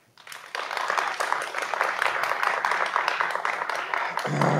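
Studio audience applause on a Greek entertainment talk show, steady dense clapping sustained for several seconds at moderate level, starting abruptly after a brief quiet moment.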